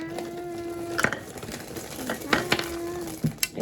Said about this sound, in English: It says to stir until it hardens.